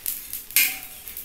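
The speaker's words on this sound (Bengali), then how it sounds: "দেখেছো কীরকম আওয়াজ হচ্ছে পটপট পটপট করে," Dry red chillies and whole spices dry-roasting in a pan crackle in a few sharp, close ticks and pops over a faint sizzle.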